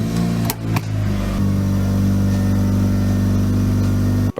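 A Mitsubishi Evo 9 engine idles with a loud, steady low rumble as the car reverses off ramps, with a couple of brief revs near the start and no talking.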